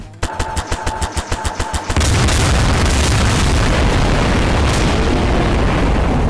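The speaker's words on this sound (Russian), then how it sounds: "ты своих взрываешь" In a Garry's Mod game, a rapid run of evenly spaced gunshot-like bangs gives way to a loud, sustained explosion roar that fills the rest of the moment.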